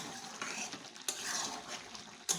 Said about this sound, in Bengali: দেখো, আমি একটু উঠিয়ে একটু নেড়ে নিচ্ছি।